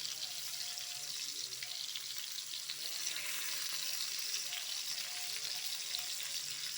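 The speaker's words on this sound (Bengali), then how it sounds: "উল্টিয়ে পাল্টিয়ে আমি ভালো করে ভেজে নিয়েছি" Pointed gourd (potol) frying in oil in a pan, a close, continuous crackling sizzle with light bubbling, steady and soft with no talking.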